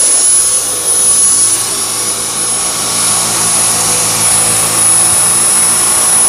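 Dyson V10 Motorhead cordless vacuum running steadily on a carpeted stair step, a loud continuous high-pitched motor whine with a constant airy rush and no breaks, close to the microphone.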